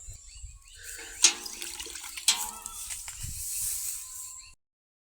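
Water running and splashing while a horse's bridle is washed, a close, uneven pouring sound with two sharp splashes and a few quieter gurgles before it stops abruptly.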